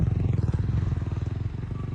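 A motorcycle is ridden up along a riverbank toward the listener, its engine throbbing in a steady, pulsing low rhythm that stays close and fairly loud throughout, with no talk over it.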